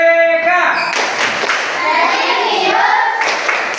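Schoolchildren do the rhythmic PPK clap together in a classroom, a few sharp bursts of hand claps mixed with voices.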